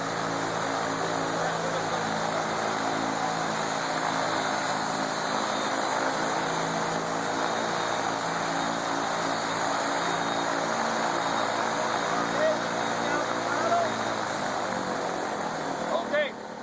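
A paramotor engine runs in a powered paragliding training simulator with a steady, droning propeller hum held at moderate throttle. It stays constant throughout, with a voice speaking at times over it.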